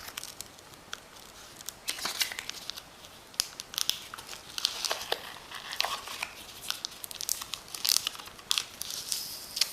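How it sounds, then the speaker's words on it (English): Adhesive bandage patch being peeled and pressed over a glucose sensor on skin, soft crinkling and crackling of backing paper with small tearing snaps, close and quiet, no talking. "it's basically just an adhesive that goes over this and protects it"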